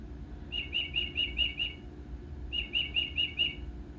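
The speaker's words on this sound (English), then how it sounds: "And of course my bird clock has to go off." A bird-song wall clock chimes its hourly call near a workbench during soft-plastic lure making, two bursts of rapid high chirping about a second apart over a low steady background hum.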